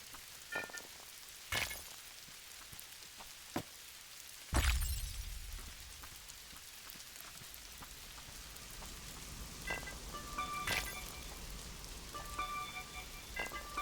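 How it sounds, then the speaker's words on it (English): Acid hail falling in the video game Lilith Odyssey: a quiet patter of drops with scattered sharp, irregular impacts and one heavier thump, no voices. "Now I've got acid hail."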